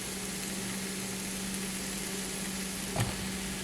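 Zucchini sautéing in a pan for breakfast, with a steady soft sizzle running evenly throughout and one brief clink near the end.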